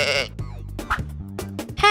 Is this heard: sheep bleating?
yes